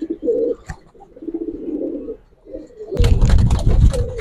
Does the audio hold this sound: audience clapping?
no